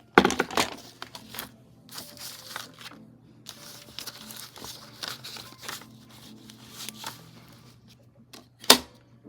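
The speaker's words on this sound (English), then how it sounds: "So what I'll do is I will take my cutter." A paper cutter trimming embossed journal paper, a series of short scraping and crinkling strokes with a sharp snap near the end, close and fairly quiet.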